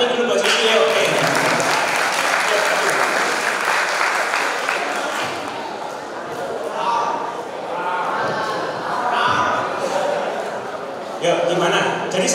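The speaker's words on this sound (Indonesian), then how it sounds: "Kita tepuk tangan dulu buat Susio." A school audience claps through a business plan competition at a Catholic high school's anniversary event: sustained, dense applause that fills the room, with a few voices mixed in.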